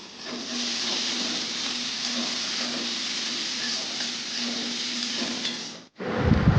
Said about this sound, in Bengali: একটা মিডিয়াম সাইজের পেঁয়াজ কুচিয়ে দিয়ে ভেজে নেব একটু